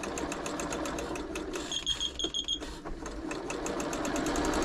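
A Janome Memorycraft 3000 sewing machine runs a straight stitch in rapid, even needle strokes, pausing briefly partway through with a few high electronic beeps, then resuming its steady mechanical whir close to the microphone.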